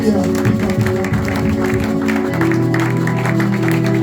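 A church congregation claps and cheers throughout, a dense sustained applause mixed with a low held musical tone and crowd noise.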